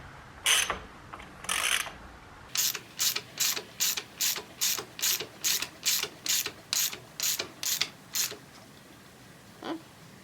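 Ratchet wrench cranking an LS engine over while timing gears, chain and harmonic balancer are fitted, giving a steady run of about a dozen sharp, evenly spaced clicking strokes up close after a couple of slower clicks, with one faint click afterward.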